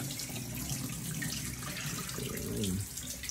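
Water drained off a pot of pork sinigang (Filipino sour soup) after parboiling the meat, a steady rushing splash running continuously at moderate level with no talk.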